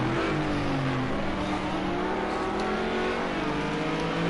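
McLaren and Audi R8 GT3 race cars roar in a racing game, set at the Algarve circuit. Loud, sustained engine drone with rising and falling revs, constant and close, no voices.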